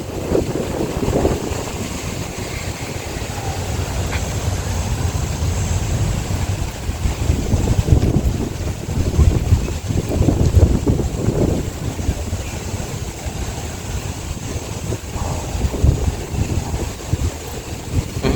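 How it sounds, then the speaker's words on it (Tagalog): Steady wind blowing across the microphone at Intramuros, Manila, near a golf course, rumbling and buffeting continuously with gusts, over a low outdoor background. "Sarap ng hangin dito."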